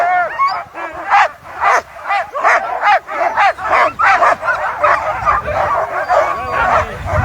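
A pack of sled dogs, hitched and waiting at the start of a race in Chasseradès, barks and yips excitedly in a dense, overlapping chorus, loud and close, with whines mixed in throughout.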